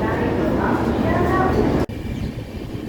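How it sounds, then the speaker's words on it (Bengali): A steady low rumble of a train pulling out of a station, continuous and fairly loud, broken by a brief sharp cut near the end. "ট্রেন একদম রাইট টাইমেই ছেড়ে দিয়েছে স্টেশন থেকে"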